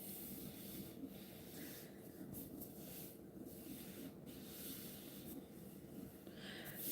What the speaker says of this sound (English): I'm just going to flip this over and rub from the back of it.